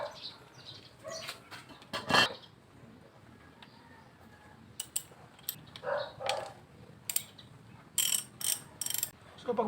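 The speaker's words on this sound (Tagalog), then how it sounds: "gagamit tayo ng number 12mm na socket para dun sa drain plug niya sa ilalim" Ratcheting clicks and metallic taps from a 12mm socket wrench working the oil drain plug under a Honda PCX160 scooter, coming in short irregular bursts with quiet gaps between them and no talking.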